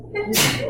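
A single sharp sneeze bursts out in a lecture setting during a chemistry class, brief and fairly close, with a noisy breathy onset and quick decay.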